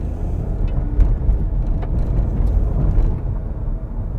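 Engine hum heard inside a Hyundai Venue 1.0 petrol DCT while driving, a steady low rumble with road noise, loud and continuous, with no talking.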